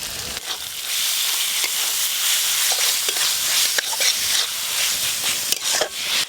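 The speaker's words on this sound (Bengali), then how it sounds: "ওপর দিয়ে এই পেঁয়াজ কুচিগুলো দিয়ে দেব।" Coarsely chopped onions dropped into a spice paste frying in a pan give a steady, close sizzle with bursts of stirring and scraping throughout.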